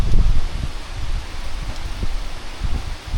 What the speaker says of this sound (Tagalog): Malakas-lakas na rin ang hangin dito ngayon